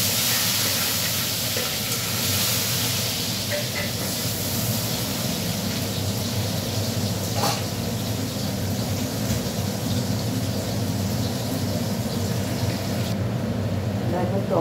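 Chopped onion goes into a hot pan just used for frying fish, giving a steady, close sizzling hiss that lasts throughout while someone talks over it.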